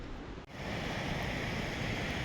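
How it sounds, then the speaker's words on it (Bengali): A mountain river on the Goecha La trek near Kokchurang, a dense, steady roar of rushing water close by with a brief dip near the start, no voices. "নদীর প্রবল আওয়াজ"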